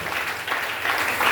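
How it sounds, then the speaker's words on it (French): Church congregation at a Sunday service in Lubumbashi applauding and acclaiming together, a steady wash of clapping and voices that holds for the whole moment and swells slightly toward the end. "Quelqu'un peut acclamer le Seigneur."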